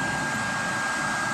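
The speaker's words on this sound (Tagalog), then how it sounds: "Switch lang po ulit yung ating blower. Diretso na po agad yung apoy natin." An electric blower roars steadily as it fans the fire of a waste oil stove, a loud, constant airy whoosh that continues unbroken and without talk.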